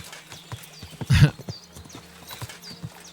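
A horse's hooves clip-clop at a steady walking rhythm in the medieval game Kingdom Come: Deliverance 2, with a brief snort or whinny and faint background ambience.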